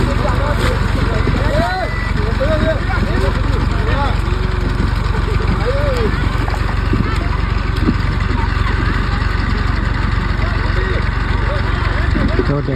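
A tractor engine runs steadily in a potato field, a loud continuous low chugging drone close by for the whole stretch, with people talking over it throughout.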